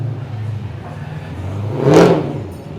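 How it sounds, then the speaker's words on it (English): A loud car accelerating past along the Rockingham foreshore near cafes, a whooshing engine roar that swells to a peak after low background rumble and then fades. "A few loud cars."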